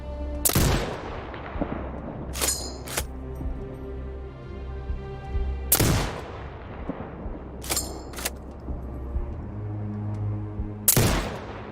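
Sniper rifle shots ring out in the video game Sniper Ghost Warrior Contracts 2. Five loud, sharp cracks come several seconds apart, each trailing into a low rumbling echo over a steady background hum.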